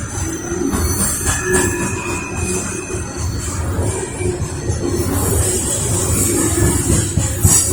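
An eastbound CSX coal train rolls through downtown Lynchburg, Virginia, its wheels squealing steadily over a low rumble of railcars, loud and close throughout with no talking.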